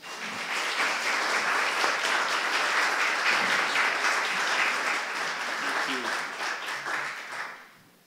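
An audience applauds warmly to welcome Father Dan Griffith at a law school launch event on restorative justice, with steady sustained clapping from many hands for several seconds before it fades out.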